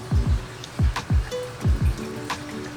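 Water pours into a drink with a series of deep, bubbling glugs, about eight gurgling pulses in quick uneven rhythm, close by and fairly loud, with no talk.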